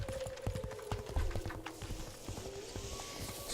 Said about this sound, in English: Some good horse foley.